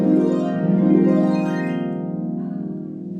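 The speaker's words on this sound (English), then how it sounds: "glissando sound that you love to hear from the harp" Harp glissando, a rapid sweep of plucked strings rising and falling with long ringing overtones, loud and close, played alone and fading out.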